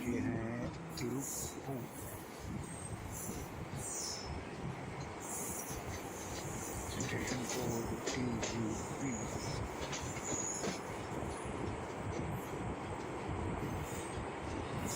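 A Bangalore–Ernakulam train rolls into Tiruppur railway station with a steady rumble and metallic clatter, wheels squealing faintly at moments, while indistinct voices are heard now and then.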